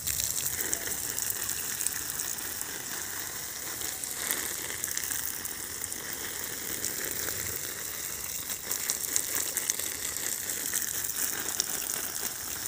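A steady, dense rush of spraying water runs without pause as a hose soaks a durian tree's leaves and the ground up close.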